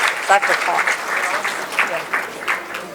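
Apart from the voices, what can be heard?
audience applause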